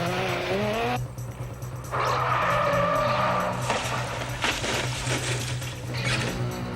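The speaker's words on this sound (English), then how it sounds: "Peter Hobson and Enzo Massiti taking their Lotus Elise on an off-road excursion on the Lilydale stage" A Lotus Elise rally car skids off the road on a rally stage, with loud engine revving, tyre squeal and gravel scraping that surge and break up across several seconds, alone without talk.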